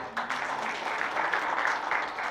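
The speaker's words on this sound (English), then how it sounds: "So big round of applause for him." A conference audience at a CA Day 2025 event claps in a steady, moderately loud patter of applause that carries evenly through the short stretch, with no voices over it.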